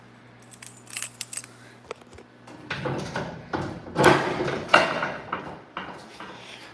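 A bunch of keys jangles close by, first in light scattered jingles, then in louder rattling bursts as they are handled and shaken, with some handling noise and no talking.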